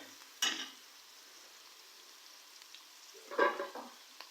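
Onions and ginger garlic paste being fried and stirred in a pan, tomatoes about to go in, two short sizzling bursts of stirring over a faint steady frying hiss, close and fairly quiet.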